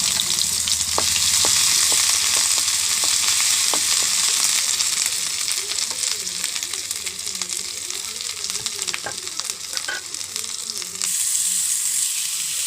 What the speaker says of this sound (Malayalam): ഇഞ്ചി വെളുത്തുള്ളി ഇട്ട് കൊടുക്കാം.